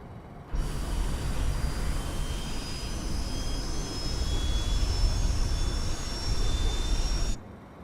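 Fokker F28 jet engines spool up in Microsoft Flight Simulator, a steady loud rushing roar with thin rising whines sliding upward, holding for several seconds before cutting off abruptly.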